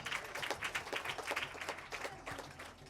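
Applause breaks out for a woman at a mental health foundation donation event at a primary school in Grafton, a steady patter of many hands at moderate distance with no voices over it.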